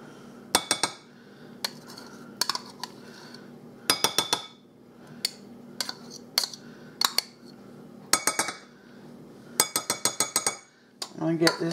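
Spoon or whisk clinking against a bowl while pumpkin with cinnamon is mixed into batter, in repeated bursts of bright metallic taps with quiet pauses between, close up.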